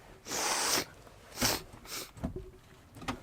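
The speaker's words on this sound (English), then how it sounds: "you're gonna hear me sniff in a second" A person with a pollen allergy sniffing several times: one long loud sniff, then shorter ones at uneven intervals, close to the mic with no talk.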